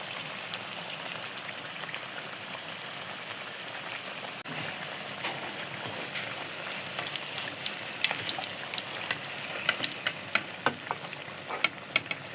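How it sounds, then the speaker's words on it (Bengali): Dragon fruit and potato chops fry in hot oil, giving a steady dense sizzle with scattered sharp pops and crackles, continuous and fairly quiet, with no talking. "দুই পাশটায় ব্রাউন কালার করে ভেজে নেব।"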